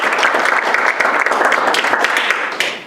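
Steady, dense round of applause from a citizens academy audience for a speaker, close and loud, sustained for nearly three seconds before tapering slightly at the end.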